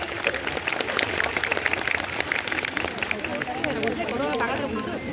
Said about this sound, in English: a huge round of applause for our teachers.